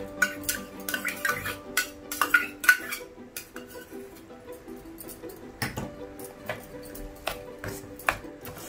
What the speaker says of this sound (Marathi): आता मी हे खोबऱ्याचं वाटण ह्याच्यात मिक्स करते।